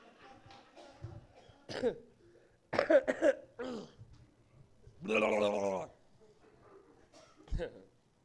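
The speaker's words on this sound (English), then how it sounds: "You hear those coughs?" Several harsh coughs burst out between stretches of conversation, a loud hacking fit near the middle and a sharp cough toward the end.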